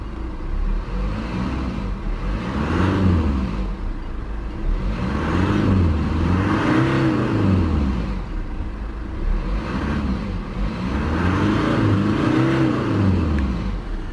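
A 2020 BMW 320d Touring M Sport xDrive with mild-hybrid diesel engine idles then revs in repeated loud swells, the low engine note rising and falling about four times, close by and with no talk.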